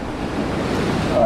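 Ocean surf rolls against a fishing jetty as a steady, broad wash of water noise with wind buffeting the microphone, loud and close, slowly swelling over a brief moment with no voices.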